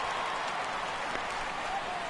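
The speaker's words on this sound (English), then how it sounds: "This crowd oohs and ahs every time this guy hits a fly ball." A baseball crowd at a Pittsburgh at Cincinnati game gives a steady, broad roar of oohing and murmuring as a fly ball is hit to right field. The sound is continuous and diffuse, with no distinct voices or words standing out.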